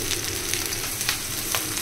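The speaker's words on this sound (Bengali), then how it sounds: "এখানে প্রথমে পেঁয়াজ ভাজা হচ্ছে" Onions frying in a pan give a steady, close sizzle with light crackles and a few stirring pulses over a couple of seconds, and no one talks.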